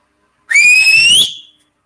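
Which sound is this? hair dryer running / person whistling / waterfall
person whistling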